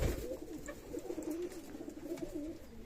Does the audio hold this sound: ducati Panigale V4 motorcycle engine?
no